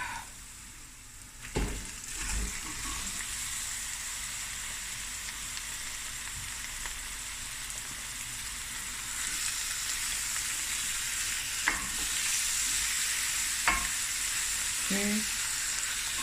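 Garlic and then meat frying in a pot for Cape Malay denningvleis, with a steady sizzle broken by a few sharp clatters and bumps as ingredients go in and get stirred, the hiss growing fuller later on; no talking.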